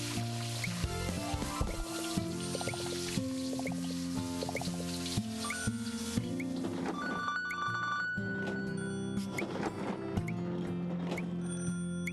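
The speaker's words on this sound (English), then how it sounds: "The phone is ringing." A telephone rings in a home kitchen over a bed of layered tonal music, repeated bell-like tones cutting through at intervals, fairly faint and steady.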